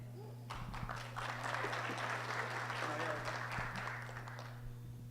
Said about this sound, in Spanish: Un aplauso para el moderador también.